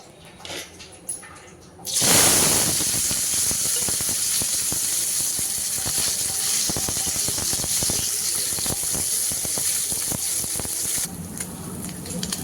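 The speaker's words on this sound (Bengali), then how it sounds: "মাছ ভাজার জন্য দিয়ে দিচ্ছি তেল।" Fish hits hot oil and bursts into a loud, dense sizzle that holds steady for about nine seconds with crackling pops, then drops back to quieter kitchen sound.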